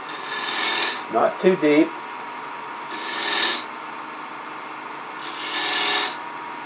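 Three broadband rasping bursts of a lathe tool cutting a cove straight into spinning wood at about 1200 rpm, each lasting under a second with steady motor hum between, and someone speaking briefly after the first cut.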